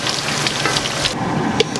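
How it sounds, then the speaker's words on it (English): A chicken drumstick frying in hot oil, giving a steady close crackle and sizzle with scattered sharper pops throughout. "like this is a drumstick, so this is going to take longer to fry"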